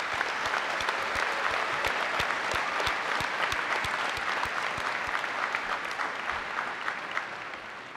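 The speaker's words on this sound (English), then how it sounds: "I think that deserves a round of applause." An audience applauds students for their volunteer hours in Green Bay, sustained clapping with distinct individual claps standing out over a steady wash, moderately loud and continuous.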